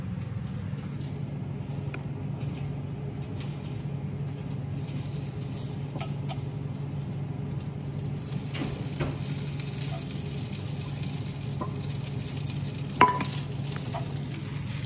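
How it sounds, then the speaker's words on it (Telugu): Curry leaf powder and rice fry in oil and ghee with a soft, even crackle, close and steady, with occasional light scrapes and one sharp knock near the end. "తర్వాత ఇది ఇలా ఫ్రై అవుతూ ఉంటే మనము రైస్ని యాడ్ చేసుకోవాలండి"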